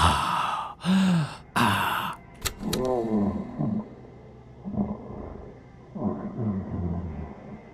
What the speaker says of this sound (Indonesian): Ngorok-ngorok, dia lagi ngorok.